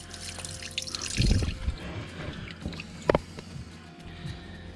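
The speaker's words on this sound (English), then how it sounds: "So just drain this bit of water out." Water splashes and trickles quietly from a Volvo Penta MD2030 boat engine being drained during an impeller change, with a short gush and a few drips, close by and fairly soft.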